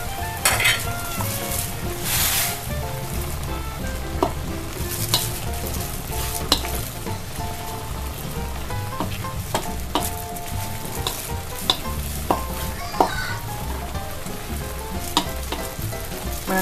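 Vegetables and sliced sausage stir-fry loudly in a pan for instant noodle dish, a dense continuous sizzle broken by frequent metallic clanks and scrapes of a utensil against the pan, close and busy throughout.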